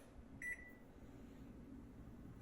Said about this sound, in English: In the microwave they go.